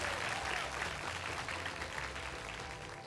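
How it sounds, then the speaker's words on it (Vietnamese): Studio audience applauding for the winning Kia K3 quiz team on a televised competition, dense steady clapping held at even loudness throughout, with no voice over it. "Hãy dành những tràng pháo tay thật lớn để chúc mừng cho đội Kia K3"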